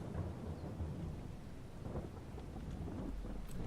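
Rain in Farming Simulator 22 hisses as a dense, steady wash with low rumbling swells, filling the whole stretch at moderate volume.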